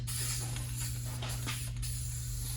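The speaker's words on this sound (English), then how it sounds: "I'm just gonna throw just a light coat of spray poly on here" A spray can of polyurethane hisses continuously at close range over a painted pine floor, a steady airy spray with a faint low hum underneath.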